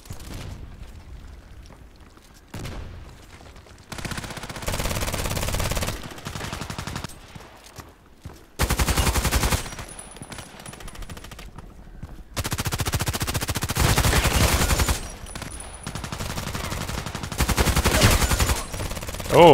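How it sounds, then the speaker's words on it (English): Gunfire in a sniper video game, with bursts of loud, sustained shooting that come and go in several long stretches and drop away in the quieter gaps between them. "How could he survive those shots?"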